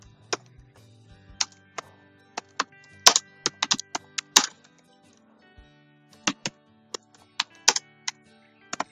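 Keys on a computer keyboard are tapped to type a short message, clicking in uneven bursts and single strokes, close up and fairly crisp, with quiet pauses between and no voices.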